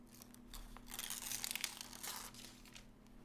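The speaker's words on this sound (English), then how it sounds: "I'm going to peel this off." Paper backing peeled from double-sided fusible web for quilting, a soft continuous crinkling and tearing rustle that swells and fades over a few seconds, close and fairly quiet.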